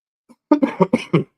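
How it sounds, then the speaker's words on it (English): A person gives a quick run of about five short, close coughs in rapid succession, preceded by a faint throat sound. "I still got a cough"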